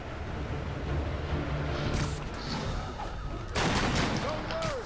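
Gunfire in the Marvel's Spider-Man video game during a sniper-fire street scene, with dense bursts of shots, a sharp loud cluster near the end, and a siren-like rising tone under steady background game noise.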